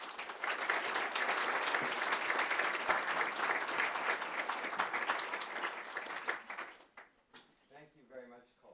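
Audience at a New Canaan Library talk on the Glass House breaks into sustained, loud applause for about seven seconds, then it tapers off into a few scattered claps and a voice speaking.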